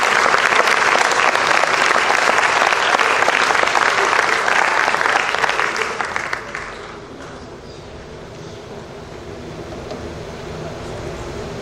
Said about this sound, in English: And one more round of applause for them